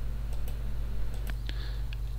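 Several sharp computer keyboard key clicks, struck to enter the Alt Q shortcut in the Xmonad window manager, with a steady low hum underneath.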